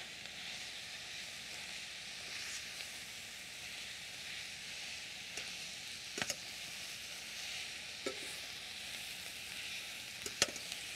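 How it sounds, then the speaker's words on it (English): Spinach sizzles steadily in a pan with garlic and cumin, a soft even hiss broken by a few sharp scrapes and clicks of stirring, fairly quiet and without talk. "But the spinach really goes down as it cooks, okay? So let's stir this."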